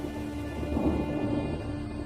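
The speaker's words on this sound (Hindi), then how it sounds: "काकाडू के तूफानों की गिनती दुनिया के सबसे बड़े तूफानों में होती है" Thunderstorm in Kakadu, a steady wash of heavy rain and a low, continuous storm rumble that stays loud and even throughout, with no voices.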